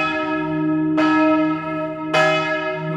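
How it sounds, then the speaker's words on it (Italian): Church bells ring from the old church bell tower in Vendoglio, Treppo (UD), Italy, loud and resonant, with two fresh strikes landing over a long humming, sustained ring and no talking. "il campanile è quello della chiesa vecchia, ma il suono delle campane è sempre speciale, sempre bello"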